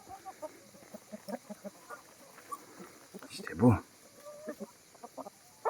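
A flock of about seventy free-range chickens clucking and chattering close by in a wooded area, scattered short clucks with one louder squawk burst midway, while a person calls to them.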